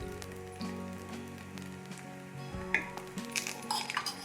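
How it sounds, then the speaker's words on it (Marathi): Upvas appe frying in a little oil in an appe pan, a soft steady crackle and sizzle with small pops, faint and close, under background music. "थोडे थोडे तेल टाकून मी आता आप्प्यांची खालची बाजूही छान खरपूस भाजून घेते"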